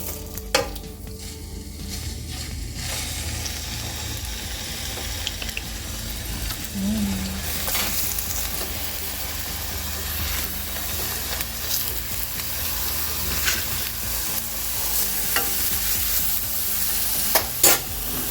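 Skinless-side Chinook salmon fillets, lightly salted and peppered, pan fry in a non-iron skillet with a continuous close sizzle that grows louder partway through, punctuated by occasional utensil clicks and scrapes, no talking.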